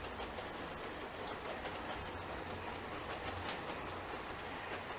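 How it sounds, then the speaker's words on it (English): A model coal train runs on a home model railway layout, giving a steady, faint rolling rumble with light clicking wheels that continues evenly throughout, with no voices. "Oh, we've got a coal train coming."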